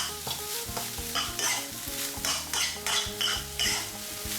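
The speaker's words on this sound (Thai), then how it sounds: "จากนั้นผัดจนกว่าผักจะเริ่มสุกตามชอบครับ" Shrimp fried rice with kale, onion and tomato is stir-fried in a hot pan. A loud sizzle is broken by rhythmic, repeated spatula scrapes and clanks, with music playing underneath.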